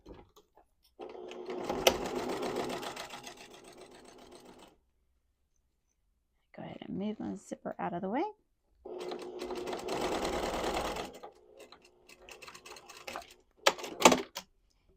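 A sewing machine bastes quilted fabric in several bursts of steady mechanical stitching, pausing between runs, with a brief spoken remark in one gap.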